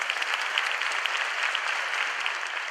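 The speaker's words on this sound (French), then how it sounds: "ici, les frères et sœurs m'applaudissent, merci." A church congregation applauds steadily throughout, a dense, even patter of many hands clapping with no voices above it.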